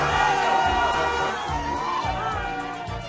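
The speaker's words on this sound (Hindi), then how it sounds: "पवन सिंह के रोड शो में जबरदस्त भीड़ उमड़ी" A huge crowd at Pawan Singh's election road show in the Karakat constituency, a dense continuous roar of cheering and shouting voices with whoops rising over the din.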